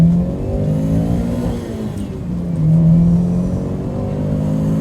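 The 1.6-litre engine of a Honda CRX 1.6Vi VTEC hums steadily while driving, its pitch rising, dipping and climbing again as revs change, loud and close with no talk.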